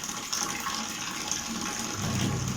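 An AQUA JAPAN twin-tub washing machine runs its wash cycle, giving a steady, close, continuous rush of churning water with a low motor hum building toward the end, no voices over it.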